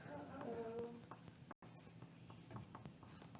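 Pencil or pen scratches across paper in short strokes, faint and close, with a brief dropout partway through.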